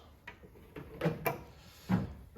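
A bottom drawer of a toolbox in a small garage shop slides open: a few soft knocks and a sliding rattle, then a final clunk, close and fairly quiet with no talk.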